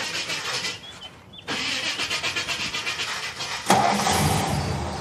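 A 1996 Chevrolet Silverado pickup cranks and catches, the starter grinding in bursts before the engine fires and settles into a loud, rough run near the microphone.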